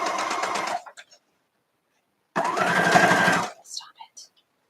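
A domestic sewing machine stitches a seam across a quilt block in two loud, steady whirring runs separated by a pause, with a person talking between the bursts.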